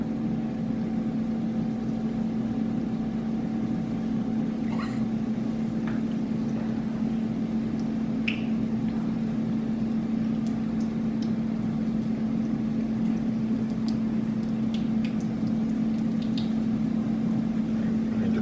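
Batter-coated Oreos fry in a hot pan, giving a steady, close sizzling hiss with a constant low hum underneath and a few faint clicks scattered through, no talking.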